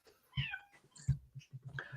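A cat meows a few times in short, close, moderately loud calls with brief pauses between them, heard alone with no talking.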